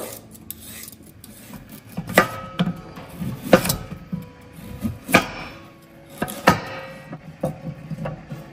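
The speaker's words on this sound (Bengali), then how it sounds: "তো প্রথমে ক্যারটটাকে স্লাইস করব।" A carrot being sliced with a knife on a board, a series of crisp cutting strokes at an uneven rhythm, close and fairly clear, with quieter rasping between cuts.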